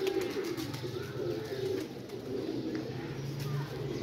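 Pigeons coo repeatedly in low, soft rolling calls, fairly close, over a steady background hum with occasional faint chirps.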